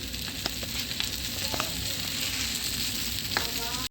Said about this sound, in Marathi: हे बघा आता हे तळत आहे मच्छी फ्राय करत आहे